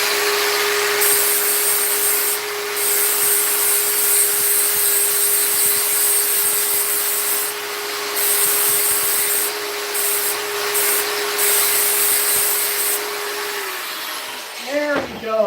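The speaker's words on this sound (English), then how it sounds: "we now have all the corners sanded down" A power sander works the corners of a handmade Japanese santoku kitchen knife blade, a loud continuous whine with a steady hum that changes slightly in pitch, then stops near the end as a few brief bumps follow.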